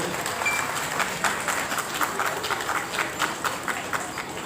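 Applause from an audience at a Bengali public welcoming ceremony for a municipal chairman, a dense steady patter of many hands clapping at moderate distance, continuous and even throughout.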